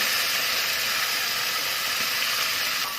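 Sesame paste roasting in a pan over a low flame for a sesame halwa, giving a steady, close hiss that runs on evenly without a break and with no talk.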